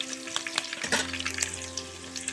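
Sliced green chilies sizzle and crackle steadily in hot oil for a ridge gourd gravy curry, with a few stirring scrapes in the pan and no voices.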